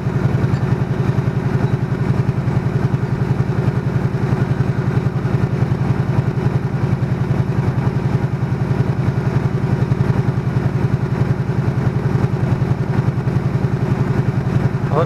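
A Honda VT125 Shadow motorcycle idles at tick over during a cold warm-up, a steady low, even engine thrum with a faint mechanical clatter running without a break from start to finish.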